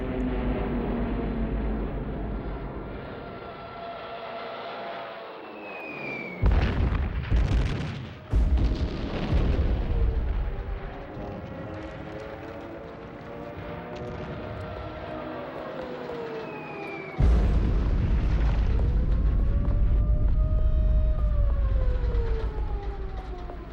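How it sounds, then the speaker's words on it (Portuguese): Bombing of Warsaw in September 1939, heard as documentary-style war audio: deep booming explosions and artillery blasts in several heavy bursts, with wailing siren-like tones rising and falling between them. "Em setembro, Hitler ordena o bombardeio de Varsóvia."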